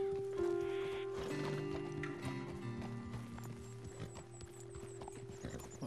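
Horse hooves clip-clop steadily in a western video game, mixed with wagon and ambient game sounds, a faint whinny and a sustained musical tone underneath, at moderate volume.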